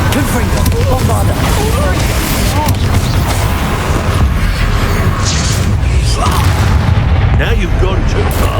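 Booming spell blasts from Confringo and Bombarda in Hogwarts Legacy thunder continuously, loud and dense, mixed with a voice casting over the chaotic combat noise.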